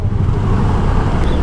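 Road traffic heard from a delivery rider's motorbike in slow traffic near roadworks, a dense continuous low engine and road rumble, loud and close, with no talking.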